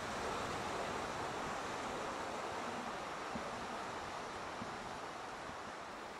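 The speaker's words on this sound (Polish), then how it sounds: "Fale się wznoszą." Rough sea surf rises along the volcanic coast of the Galapagos, a faint, steady wash of breaking waves with a windy, noise-like roar and no distinct individual crashes.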